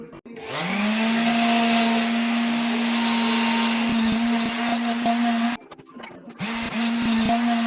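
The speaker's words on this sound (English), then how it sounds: "Now I'm sanding the edges down." A power sander grinds down the pointy edges of homemade sound booth panels, a loud steady motor whine with brief catches and a short pause before it starts again near the end.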